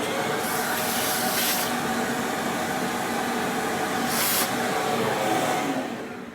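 Continuous loud vacuum hiss while cleaning the burrs of a Ceado E37S coffee grinder, with a couple of brief sharper rushes of airflow as the nozzle moves over the parts.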